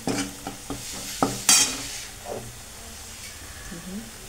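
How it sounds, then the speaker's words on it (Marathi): Red chili powder sizzling in hot tempering oil for spicy pav bhaji, a few sharp clinks of a spoon followed by a loud hissing burst, then a quieter steady sizzle. "फोडणी देताना पहिल्यांदा मी लाल तिखट टाकणार आहे."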